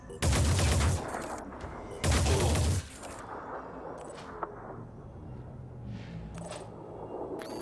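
Two loud bursts of rapid gunfire in the video game Phoenix Point, each lasting under a second, ring out close by, followed by a lower rumbling background with faint metallic clicks.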